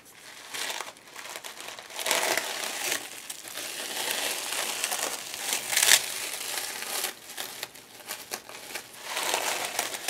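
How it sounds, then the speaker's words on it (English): Plastic wrap is peeled off a handmade board book, giving steady close crinkling and crackling throughout with brief louder tearing bursts. "Take the plastic wrap off,"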